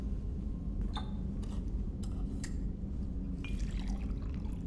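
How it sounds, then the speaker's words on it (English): A drink poured in the video game Mass Effect 2, faint liquid drips and splashes trickling in scattered bursts over a low rumbling background. "Alright, let me pour one of these."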